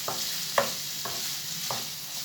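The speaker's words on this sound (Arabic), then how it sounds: "خليو الدجاج حتى يتحمر على راحته" Chicken pieces sizzling and frying in a pan, with a steady close hiss and a few soft clicks and stirring knocks spaced through it, no voices.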